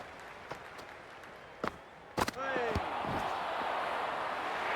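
A cricket stadium crowd at a T20 World Cup match between India and South Africa swells from a murmur into a sustained loud roar of cheering, with a few sharp knocks and a brief voice before it.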